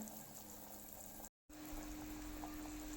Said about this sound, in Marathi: आता आपल्याला इथे चार ते पाच मिनिट सेम मिडियम फ्लेमवरती असं उकळवून घ्यायचं आहे